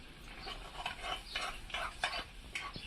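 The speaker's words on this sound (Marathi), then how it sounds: "तर मी आता याच्यामध्ये टाकून घेते लसणाच्या पाकळ्या फुडून घेतलेल्या" Peeled garlic cloves go into a pan for shepu dal bhaji, giving a series of soft scraping, stirring and light sizzling strokes, close and fairly quiet with no speech.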